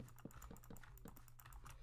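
Computer keyboard keys clatter in quick bursts alongside sharp mouse clicks during a Minecraft session, close and fairly quiet over a steady low hum, with no talking.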